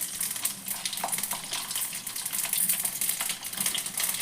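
Chopped onion, crushed garlic, mustard seeds, dried red chillies and curry leaves crackle and sizzle in hot oil for an Andhra-style dal tempering, a steady close-up frying hiss with small pops throughout.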